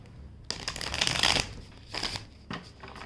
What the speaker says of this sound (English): I'm changing the deck and I'll just give it one shuffle